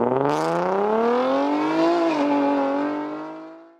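A Toyota Land Cruiser Prado LC250 revs steadily with a smooth, rising engine note, loud and close, holding for several seconds before easing off at the end.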